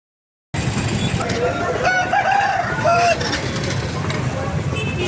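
Roosters at a country chicken market in Eluru, with several long rising-and-falling crows amid steady crowd murmur and people talking nearby.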